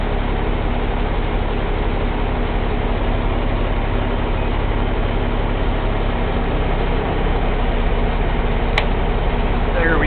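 A 2019 KME fire truck engine runs in neutral with the aerial ladder PTO engaged, a loud, steady low idling drone that holds constant throughout, with a brief faint click near the end.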